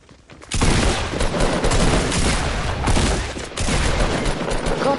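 Shotgun blasts in a video game shooter match, a loud dense burst of gunfire starting abruptly after a quiet moment and continuing steadily with a brief dip near the end, no talk over it.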